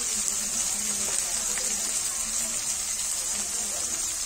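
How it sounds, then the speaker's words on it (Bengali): Water pours steadily onto potatoes in a cooking pan for a soybean and potato curry, a continuous close gushing hiss with no talking. "আলুতে একটু জল দিয়ে দিলাম।"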